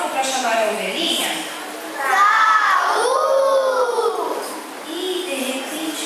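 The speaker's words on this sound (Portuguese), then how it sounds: "Vamos gritar mais alto para chamar a ovelhinha?" Children at a Saturday church children's worship service in Ribeirão Preto shout together loudly in two long sustained calls to a lost sheep, crowd-like and ringing.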